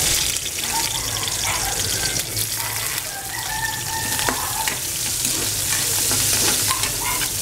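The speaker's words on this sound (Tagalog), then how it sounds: "Usual na pagigisa lang." Onions sautéing in a pan, a dense continuous sizzle and crackle at close range with occasional stirring scrapes, loud and steady with no talk.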